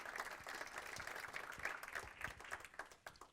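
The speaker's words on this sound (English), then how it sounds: "Big round of applause for Peter." An audience at a cryptocurrency and blockchain panel event applauds a speaker, with steady dense clapping throughout that fades slightly toward the end.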